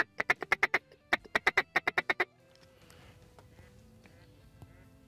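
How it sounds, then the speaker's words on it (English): Duck quacks during a duck hunt, two loud close bursts of rapid rhythmic quacking, about six or seven calls each, followed by quieter ambient rustling and faint background noise. "She's quacking on something."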